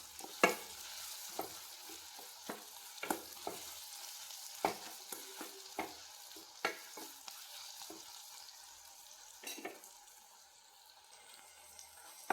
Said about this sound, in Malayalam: ഞാനൊരു സ്പൂൺ ഇട്ട് കൊടുത്ത് ഇളക്കി കൊടുക്കാം.